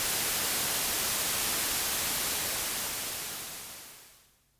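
Broadband noise from an Elektron Digitone II synthesizer's noise level, a steady hiss that holds loud, then fades out to near silence in the last second, with no voices.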